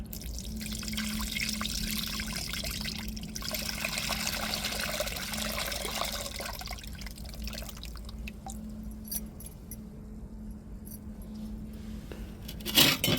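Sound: tamarind water being poured into fish curry

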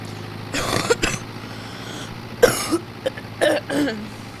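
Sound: cough

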